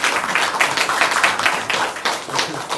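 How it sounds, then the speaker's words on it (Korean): Applause from an audience at a Justice Party spokesperson's talk event, dense continuous clapping at steady loudness with no voices over it. "두 분께 다시 한번 큰 박수를"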